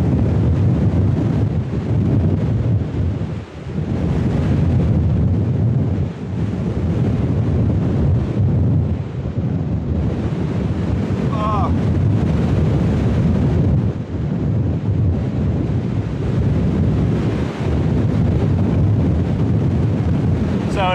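Strong storm gusts batter the microphone outdoors, a continuous loud, buffeting roar that swells and dips over twenty seconds while a Soto WindMaster camping stove burns close by.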